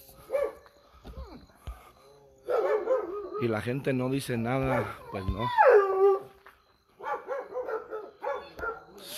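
Several dogs bark and yelp loudly in bursts, with some whimpering howls, outdoors on Janitzio island in Michoacán near Pátzcuaro, while someone talks between and over the barking.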